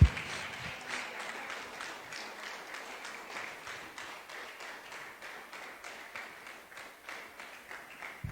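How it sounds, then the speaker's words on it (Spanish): A church congregation applauds in steady, rhythmic clapping that keeps a regular beat throughout, at moderate level and somewhat distant, with no break. "Y si va a aplaudir al Señor, apláudale fuerte."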